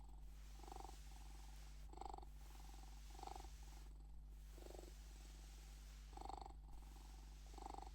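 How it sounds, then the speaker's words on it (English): A toy otter cushion's purring mechanism gives a soft, steady cat-like purr throughout, with regular pulsing bursts over a low constant hum; faint and close, no voices. "And it does sound like an authentic cat purring."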